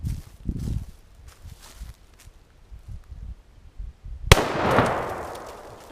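A single sharp gunshot from an 8mm Mauser rifle firing 1949 FMJ ammunition outdoors, a loud crack followed by a decaying echo after several seconds of quiet rustling and footsteps.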